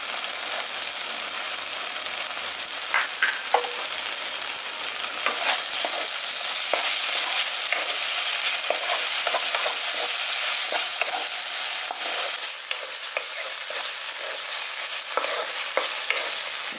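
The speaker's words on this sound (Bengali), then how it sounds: "মটরশুঁটিটা দিয়ে ভালো করে মিশিয়ে দিয়েছি" Spiced soya keema masala with peas fries steadily in a pan, a dense continuous sizzle with scattered scraping stir strokes, close and loud with no talk.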